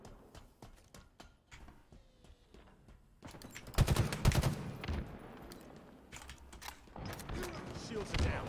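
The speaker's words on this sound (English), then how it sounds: "Let's try out the fucking pistol." Pistol gunfire in Halo: scattered single shots crack at first, then a loud cluster of blasts and impacts follows, with shots continuing irregularly amid game effects and a voice talking.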